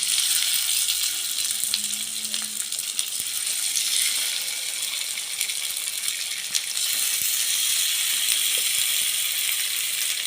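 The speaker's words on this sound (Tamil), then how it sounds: "எண்ணெய் சூடான உடனே நம்ம எடுத்து வச்சுருக்க மசால் மசால் தடவி வச்சுருக்கிற சிக்கன் பீசஸ்லாம் சேர்த்துக்கலாம்" Marinated, spice-coated chicken pieces frying in hot oil in a pan, a loud, steady broadband sizzle with crackling pops that continues without pause and with no talking.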